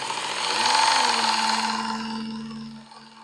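Work Sharp Ken Onion belt sharpener with grinding attachment running, a steady whirring hum with a brighter grinding hiss that swells briefly and then tapers off, heard alone.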